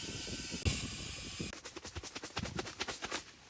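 A small electric pump whirs and hisses up close while inflating a pillow for a pop-up tent on a windy camping trip, starting suddenly and running in uneven pulsing bursts.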